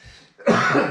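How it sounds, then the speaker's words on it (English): A single sharp cough bursts out after a brief soft rasp, close and fairly loud, trailing off into a rough exhale. "It was a cough, not a sneeze."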